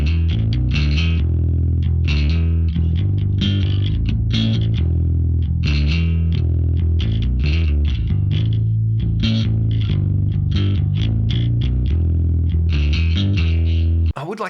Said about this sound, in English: The guitar's doing so much in this snapshot with that big ambient reverb